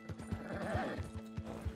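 A horse in Red Dead Redemption 2 lets out a rising whinny over a steady clip-clop of hooves, the hoofbeats landing in a regular rhythm close up and fairly loud.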